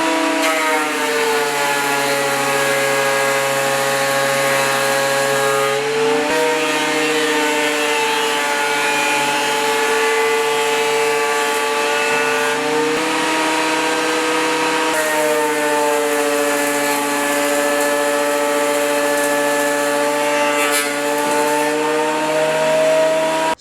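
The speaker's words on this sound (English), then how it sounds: "I want to plane it down to make it have a sharper edge." A loud, steady mechanical whine of a Ryobi thickness planer cutting a 2x4, holding continuously with small shifts in pitch as each pass bites.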